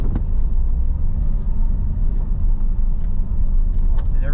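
A Porsche Cayman on winter tires drives along a snowy road, giving a steady, close low rumble of engine and road noise throughout with no talking.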